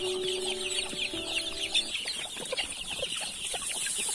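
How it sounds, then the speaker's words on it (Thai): Laying hens cluck in a chicken coop, a busy chorus of short, repeated clucks and chatter close by, with a brief tonal hum at the start. "ดูครับนี่ไก่ไข่"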